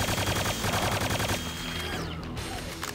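A Gunner enemy in Quake 2 on Xbox 360 unleashes loud, rapid machine-gun fire in a dense rattling burst, ending in a heavy blast and a tearing crash.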